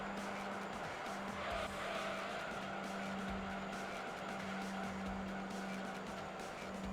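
Race cars in Gran Turismo 3 video game skid and squeal through left-hand turns, with a steady engine drone and tire noise continuing throughout at moderate loudness.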